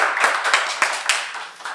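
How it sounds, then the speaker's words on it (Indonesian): A studio audience claps to welcome a guest, a brief bright patter of hands with a few louder claps standing out, close and fairly loud with no talking over it. "Kita kasih tepuk tangan dulu."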